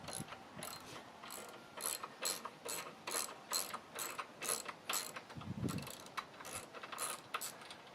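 A nut being unscrewed from the front wheel of a homemade ultralight electric go-kart gives a steady run of close, rhythmic ratcheting clicks with a brief low rattle near the middle, and no talking.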